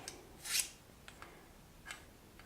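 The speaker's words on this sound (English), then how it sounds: "So what I do is I sharpen my scissors the same way." Sewing scissors being sharpened at home: a soft, hissing scrape of blade on blade near the start, followed by a few faint, brief metallic touches in an otherwise quiet room.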